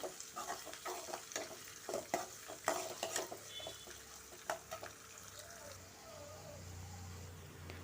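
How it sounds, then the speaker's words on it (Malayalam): Oil sizzling steadily in a pan while spices are stirred, with scattered scraping clicks and a soft continuous crackle. "ഇതെല്ലാം കൂടെ നന്നായിട്ടൊന്ന് മൂത്ത് വരട്ടെ"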